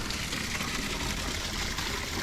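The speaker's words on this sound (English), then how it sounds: "Mini waterfalls. I think it is. Little waterfalls." Water from a small garden waterfall trickles and splashes in a steady, soft, continuous wash.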